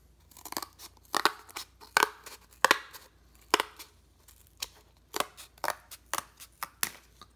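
Scissors cut through cardboard trimmed from a rubber band printing block in a series of crisp, close snips and crunches, irregular and alone with no talk.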